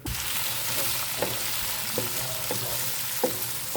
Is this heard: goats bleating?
no